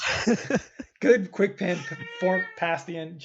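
A house cat meows loudly and repeatedly close by, its cries overlapping with a person talking.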